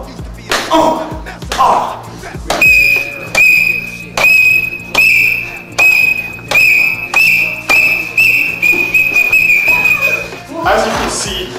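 A shrill whistle blasts repeatedly in short, rhythmic bursts, loud and close, with faint background voices at the start and end.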